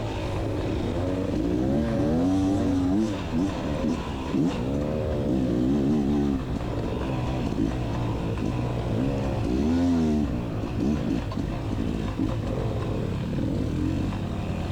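A Beta Xtrainer 300 dirt bike climbs sandy hills during a Whiskey Creek hare scramble, its engine revving hard and continuously with rising and falling pitch sweeps, loud and close throughout.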